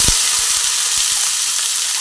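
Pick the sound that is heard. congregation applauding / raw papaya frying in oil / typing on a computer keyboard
raw papaya frying in oil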